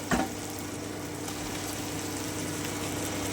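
Chicken balls go into a cooked spice masala with a soft thump, followed by a quiet, even frying hiss that holds steady throughout.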